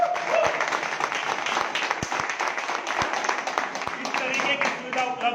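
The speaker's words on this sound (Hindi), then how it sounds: "एक बार इनके लिए जोरदार ताली।" Applause at an opening event in Jagadhri, Haryana, a full, continuous crowd clapping across the whole stretch, with a few sharper claps standing out near the front.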